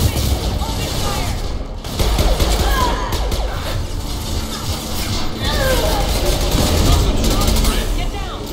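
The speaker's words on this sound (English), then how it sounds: "Open fire!" Gunfire in the Mass Effect 2 video game, a dense sustained barrage of loud shots and booms during a firefight, with voices shouting over it.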